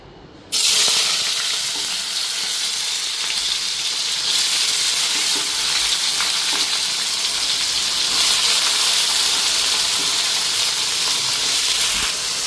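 Fish sizzles steadily in hot oil in a pan for a home-cooked Bengali meal, a loud, continuous broadband hiss that starts abruptly and carries on evenly with no talking.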